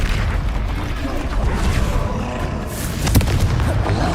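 A Confringo blasting spell explodes in the Hogwarts Legacy video game: loud, booming bursts with a rumbling low end fill the stretch, topped by one sharp crack near the end, amid dense combat noise.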